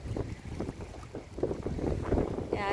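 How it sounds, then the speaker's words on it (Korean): Sea waves wash against the shore at a seaside ecological park on the south coast, a continuous churning surge with gusts of wind buffeting the microphone, fairly loud and close, with no speech. "파도 소리가 더 잘, 물개 치는 소리가 더잘 들리네요"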